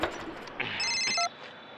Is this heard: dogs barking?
no